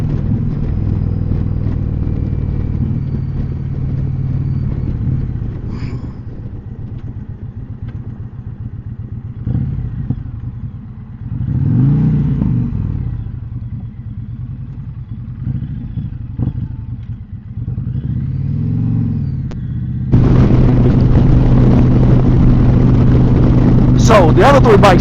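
A Harley-Davidson Pan America CVO motorcycle engine idles and rumbles steadily with a low throb, a louder surge near the end, while a person talks over it.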